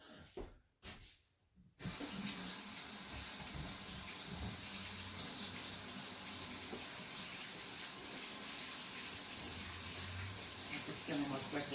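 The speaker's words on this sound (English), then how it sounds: "Let me wash my hands very quickly." Running tap water at a kitchen sink as hands are washed after preparing homegrown butternut squash, a loud steady rushing hiss that starts abruptly after a few brief knocks.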